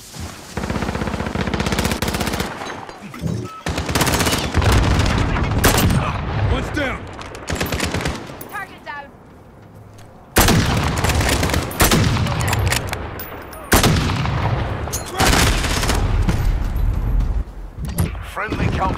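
Heavy, loud gunfire in Call of Duty Warzone: machine-gun bursts and single shots come in waves with brief lulls, voices talking over the shooting at times.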